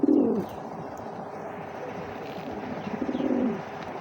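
Racer pigeons at a bird market cooing in low rolling throaty phrases, one near the start and another toward the end, over a busy background murmur.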